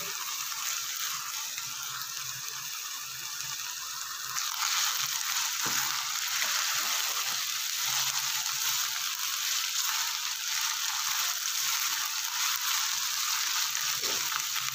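Ginger garlic paste frying in a pan for mutton keema, a steady broadband sizzle that holds throughout and grows slightly louder partway in, with faint stirring scrapes and no talk.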